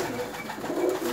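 Rare-breed pigeons coo in soft, low, throaty murmurs, a few close calls rising and falling over a quiet background.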